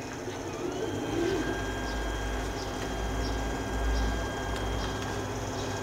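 A 3D printer runs during printing with a steady, low mechanical hum and faint whining tones that continue unbroken and fairly quiet throughout.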